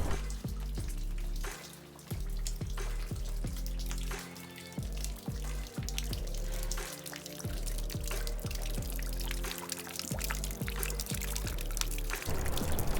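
Steady rain falls throughout, a dense hiss of drops running continuously beneath gentle melodic music.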